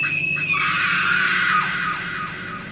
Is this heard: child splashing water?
no